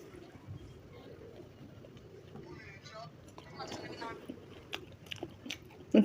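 Someone chews singara with homemade sauce noisily, making soft crunching and smacking sounds that grow louder toward the end under a murmur of talk.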